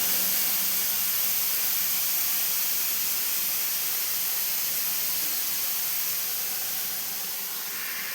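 Onions frying in a pan for chicken pulao, stirred gently as they turn brownish: a steady, loud, broad sizzling hiss runs throughout with no talk.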